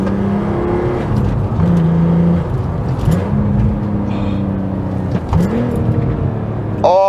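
A VW Mk4 Golf R32 engine revs up and down with rising and falling pitch, followed by crackling exhaust burbles, heard from inside the moving car on an off-ramp.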